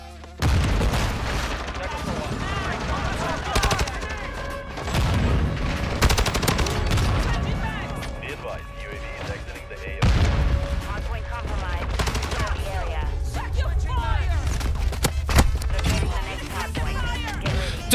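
Rapid automatic STB 556 rifle fire in Modern Warfare 2, sustained bursts running nearly the whole time with brief pauses, loud and close, with other game gunfire and effects mixed in and occasional voices.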